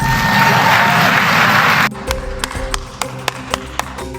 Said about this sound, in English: that's followed by a horde of liberals cheering